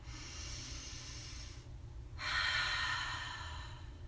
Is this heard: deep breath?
yes